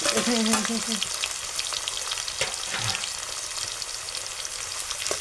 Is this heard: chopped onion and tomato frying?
yes